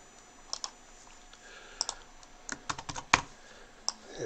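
Keyboard shortcuts tapped on a computer keyboard while scanned watercolour paintings are edited, a sparse run of light, close key clicks at irregular intervals with a small cluster near the end.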